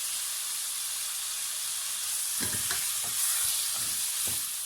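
Sliced radish with chopped cilantro steams in a hot pan, giving a steady hiss and sizzle, with a few soft stirring scrapes in the second half.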